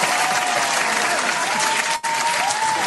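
Applause from a crowd, a loud, dense, continuous clapping close at hand that runs steadily with one brief dip.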